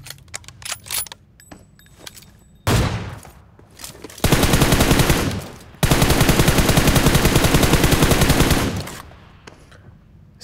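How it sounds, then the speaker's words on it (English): Gunfire in the mobile game PUBG Mobile: a few scattered shots, then two long, loud automatic bursts fired at close range, with no talking over them. "I'm getting shot from behind."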